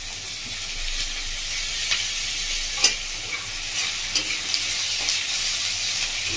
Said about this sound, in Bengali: এবার আমি দিয়ে দেবো পেঁয়াজ ভাজার মধ্যে ক্যাপসিকাম কুচো,